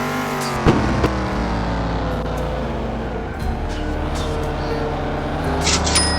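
Race car engine droning steadily in the video game Grand City Racing, with layered harmonic whine, a brief sharp impact near the start and a high tone near the end, loud and continuous with no talk.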